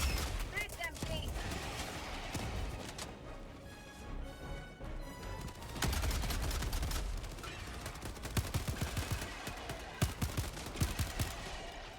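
Automatic gunfire in a cooperative shooter game, rattling in repeated bursts and scattered shots under fairly steady talk from players, moderately loud throughout.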